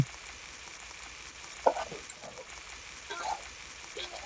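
Bengali curry with tender sweet pumpkin and young hilsa being sautéed over high heat, a soft continuous sizzle with a couple of brief clinks and spatters, fairly quiet.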